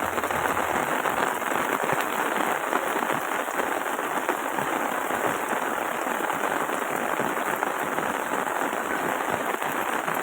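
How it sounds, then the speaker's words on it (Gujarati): Heavy rain pours down steadily in Rajula, a dense, loud, unbroken wash of drops hitting surfaces for the whole stretch, with no voices. "અત્યારના રાજુલામાં જોરદાર વરસાદ શરૂ થઈ ગયો છે"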